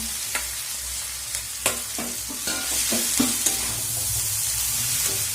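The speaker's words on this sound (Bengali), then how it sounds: "তো সবজিগুলো আমার ভাজা হয়ে গেছে, এবার আমি ম্যাগিটা দিয়ে মিক্স করে নেব।" Two packets of Maggi noodles are stirred into fried vegetables in a sizzling pan. A spatula scrapes and taps in uneven strokes over a continuous frying hiss, with no talking.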